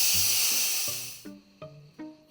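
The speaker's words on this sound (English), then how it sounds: "so we're going to do a quick release." An Instant Pot pressure cooker's quick release lets out a loud, steady steam hiss that fades after about a second, followed by a few short clicks and knocks.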